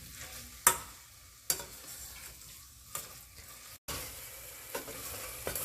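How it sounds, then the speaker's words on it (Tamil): Tomatoes cook in a pan for mutton biryani, a steady sizzle broken by several sharp stirring scrapes at intervals, close and with no one talking. "இப்போ இதில் தக்காளி நல்லா மசிஞ்சு வர வரைக்கும் அது குக் ஆகட்டும்."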